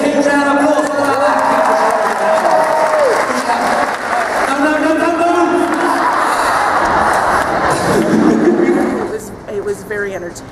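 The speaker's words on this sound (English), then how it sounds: "Give him a huge round of applause for that" Students at a school assembly applaud a science and magic show performer, a loud, sustained round of clapping with voices talking over it before it tapers off near the end.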